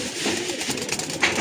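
Pigeons coo softly and steadily as they flutter down to peck at grain scattered for them in winter; a brief, close, continuous cooing.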